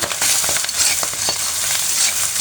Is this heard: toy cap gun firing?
no